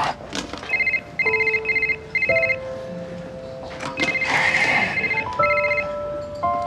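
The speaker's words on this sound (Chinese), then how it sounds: "你干嘛不接电话呀？" A telephone rings unanswered in repeated electronic trill bursts with a steady rhythm, loud and close, while background tones run beneath it.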